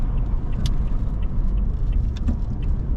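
A pickup truck rolls into a residential road, its engine and tyre rumble steady and close, with a few light jingling clicks over the low drone.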